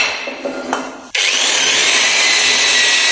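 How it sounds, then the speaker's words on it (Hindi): An electric drill fitted with an 8 mm bit starts up and bores into a workpiece, a loud steady high whine that kicks in abruptly after a short quieter moment and runs to the end. "अब मैं इसमें ड्रिल करता हूँ।"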